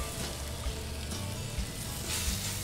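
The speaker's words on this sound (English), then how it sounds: "And you hear it sizzle as soon as it hits the pan." Steady crackling sizzle of bacon frying in a hot pan, continuous and fairly close, with a low background hum and no talking.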